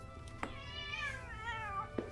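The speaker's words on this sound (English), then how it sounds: "My cat would like to say hello." A domestic cat meows close by, a drawn-out, wavering meow with a couple of brief soft clicks or noises around it, in a quiet room.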